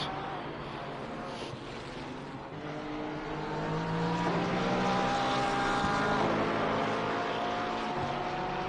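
Race cars including a Lexus and a Porsche at Indianapolis in a sim racing game, engines droning steadily with rising and falling pitch as they pass and shift, growing slightly louder midway, with a faint voice underneath.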